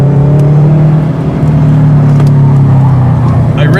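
A Subaru car engine drones loudly and steadily while driving, a close, sustained low hum with a slight rise in pitch near the end.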